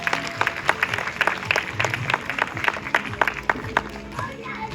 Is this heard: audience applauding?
yes